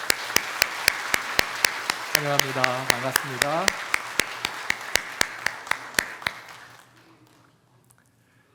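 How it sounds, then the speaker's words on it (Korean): A church congregation claps together in a steady, evenly spaced rhythm to welcome newcomers at a Sunday worship service, with a voice speaking over the beat. The clapping stops near the end and leaves quiet room noise. "우리 박수로 환영하도록 하겠습니다"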